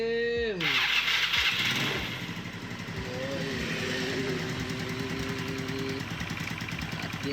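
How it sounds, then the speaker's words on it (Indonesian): A 2007 Yamaha Mio Sporty scooter engine cranks and sputters to life, then settles into a steady, slightly uneven idle, close by and loud, its exhaust unbalanced. "Kita mau coba nyalain mesinnya ya."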